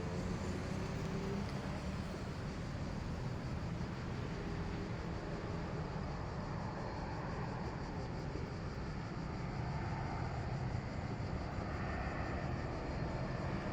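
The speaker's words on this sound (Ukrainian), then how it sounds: "літак летить, бачу, іде на посадку" A steady, broad roar of an airplane engine as it flies low on approach to land at an airfield, filling the whole stretch, distant and even, with no voices.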